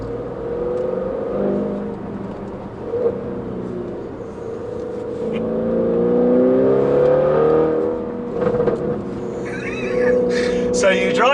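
A 750bhp Audi RS6 engine roars and pulls hard, its revs climbing steadily with a gear change midway. It is loud and close, with faint talk underneath.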